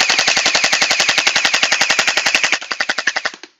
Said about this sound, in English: We'll give it some shots downrange.